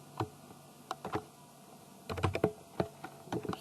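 Someone typing on a computer keyboard, irregular bursts of light clicking keystrokes with short pauses between, close and quiet with no talk.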